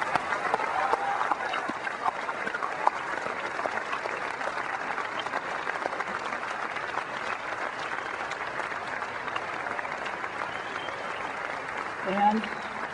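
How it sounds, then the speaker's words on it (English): Sustained audience applause filling the hall at the Macworld New York 2001 keynote, an even, dense roar of clapping from a large crowd that holds steady throughout. "giving them a round of applause for bringing us these wonderful things"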